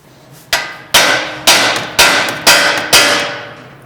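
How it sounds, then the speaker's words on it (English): A ball peen hammer strikes a Toyota Tacoma steering spindle six times in an even rhythm, each blow a sharp, loud metallic hit with a short ringing decay. "You will use the ball peen hammer"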